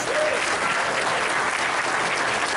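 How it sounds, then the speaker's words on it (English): A crowded convention Q&A audience at Monster Bash applauds for Kevin: dense, steady clapping fills the room at full strength from start to finish, with no speech over it. "A big round of applause for Kevin, please."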